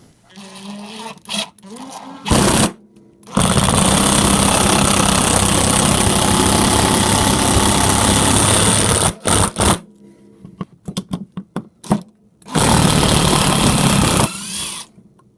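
A power impact driver fitted with Wiha impact bits (Phillips, Torx) drives screws in loud bursts, a long sustained rattling whir from about three to nine seconds, then shorter bursts, with quiet gaps and a few clicks between runs.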